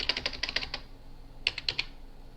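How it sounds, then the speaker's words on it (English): Quick bursts of typing on a computer keyboard to enter an amount into a calculator, two short runs of clicking keystrokes separated by a pause, close and clear with no voice. "you can come down here and you can type in"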